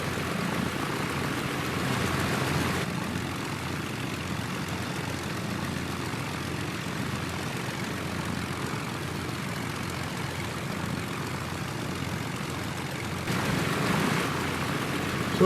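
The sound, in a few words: Junkers F13 aircraft taxiing, propeller engine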